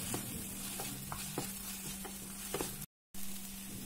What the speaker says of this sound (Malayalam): ഈ സമയം നമുക്ക് അരിഞ്ഞു വെച്ചിരിക്കുന്ന സവാള ചേർത്ത് കൊടുക്കാം. നന്നായി ഒന്ന് യോജിപ്പിച്ചെടുക്കണം.